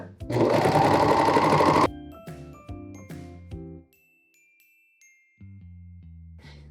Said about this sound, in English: Okay, let's serge these two layers together.